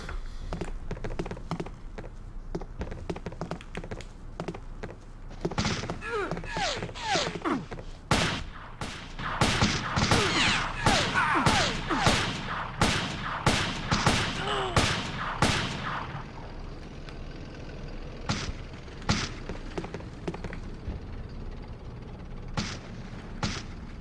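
Machine gun fire in the Army Men video game, with rapid rattling bursts of shots clustered in the middle and scattered single reports before and after, moderately loud over a quiet background.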